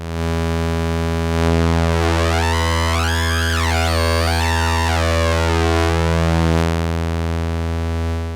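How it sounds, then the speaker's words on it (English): Synthesizer tones from a Future Sound Systems module drone steadily while layered ramp-wave harmonics sweep up and down in wavering glides, bright and buzzy, rising and falling together. "I can use like triangles"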